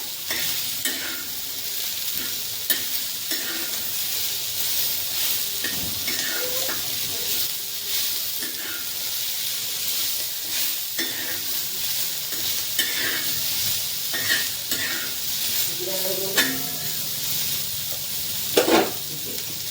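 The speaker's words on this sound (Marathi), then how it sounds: "त्यामध्ये आता मी मुळ्याची शेंग भाजलेली आहे ती आता त्यामध्ये टाकणार आहे आणि ते सर्व असं मिक्स करून घेणार" Drumstick pods stirred into fried onion in a hot pan, with steady sizzling and frying hiss under repeated scraping and stirring strokes throughout.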